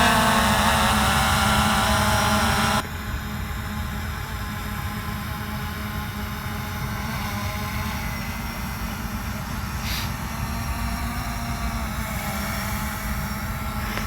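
A Zino 2 drone flies close overhead during its first flight, giving a steady, loud broadband propeller whine and hum that drops slightly in level after a few seconds and then holds constant without any talking.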